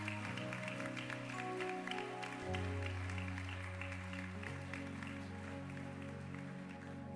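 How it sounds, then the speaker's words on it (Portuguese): A church congregation at a live worship service claps along to the Lord, a soft wash of many hands beneath sustained keyboard chords and music. "Aplauda ao Senhor"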